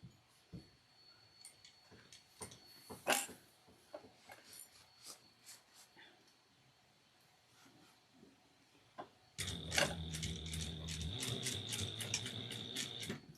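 A sewing machine backstitching the seam of a triangular shoulder bag: quiet scattered clicks and handling noises, then a sudden sustained mechanical whirring run that continues to the end.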